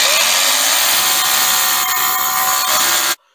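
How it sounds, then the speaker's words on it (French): A rotary hammer with a 6 mm bit drills into a stair-stringer wall built from BA13 plasterboard, making a loud, steady, close whir for about three seconds before cutting off abruptly. "avec mon perfo, forêt de 6, hein, et je viens percer pour fixer mon lisse"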